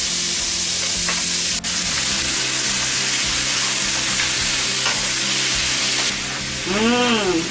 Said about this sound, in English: You hear that sizzling? That's the kind of sizzling that you want to hear.